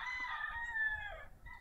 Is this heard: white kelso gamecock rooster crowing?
yes